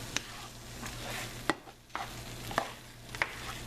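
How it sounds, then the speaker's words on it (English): Taco filling with cheese is stirred in a pan, a low sizzle under several sharp spoon knocks and scrapes spaced roughly a second apart, close and fairly quiet. "Mix it real good"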